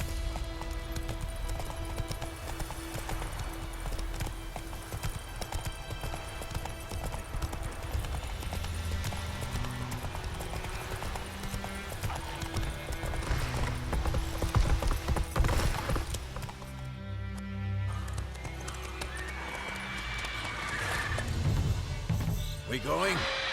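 Roach, the horse in The Witcher 3, gallops in a steady clip-clop of hooves under game music and ambience, while a voice speaks over parts of it and a brief whinny sounds near the end.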